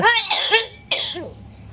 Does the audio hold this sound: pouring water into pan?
no